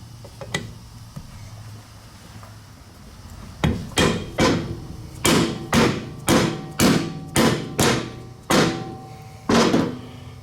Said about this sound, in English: I'll be able to tap them in with a hammer really quickly.